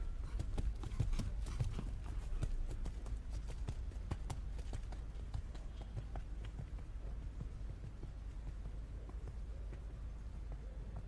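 A horse canters in a dressage arena at an eventing championship, its hooves beating a steady three-beat rhythm, muffled and fairly distant over a constant background hum.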